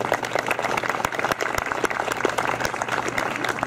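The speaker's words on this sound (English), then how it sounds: "So we can give her a round of applause." Audience applause at a 2013 scholarship banquet in Arizona, steady dense clapping with a few sharper near claps standing out, continuous throughout.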